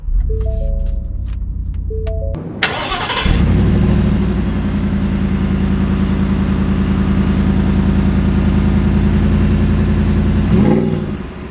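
A 2022 Ford F-150 Super Snake Sport pickup engine idles with a short burst of warning chimes, then turns over and settles into a steady, deep rumble close by, running evenly throughout.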